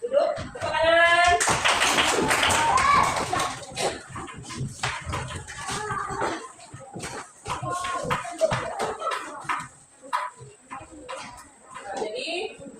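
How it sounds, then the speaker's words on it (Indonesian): Classroom applause, a burst of hand clapping from students that starts loud and fills the first seconds, then gives way to a teacher's voice and scattered taps and shuffling. "Tepuk tangan."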